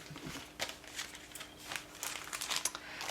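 A pack of handmade paper sheets is handled up close, with soft intermittent crinkling and rustling as the sheets shift and rub together, quiet and without talking.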